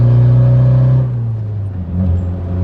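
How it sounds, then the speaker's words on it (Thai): A V6 car engine idles with a deep, loud exhaust rumble close by through a valved exhaust opened for full volume, then the tone drops and shifts as the revs change. "แบบเปิดเสียงลั่นๆใสๆนะครับ สูตร V6 เสียงเหมือนท่อซิ่งเป๊ะไม่มีแป้งๆแน่นอน"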